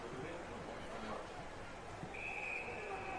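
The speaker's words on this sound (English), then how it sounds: "There's a whistle on the play here for high contact." Umpire's whistle blown for high contact during a Darwin Buffaloes v Wanderers NTFL men's Australian football match, a sustained shrill tone near the end, moderately loud over steady outdoor crowd and ground noise.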